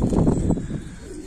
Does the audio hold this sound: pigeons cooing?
yes